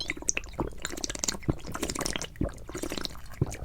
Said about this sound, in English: I could hear the sound of the cake drinking all of the syrup.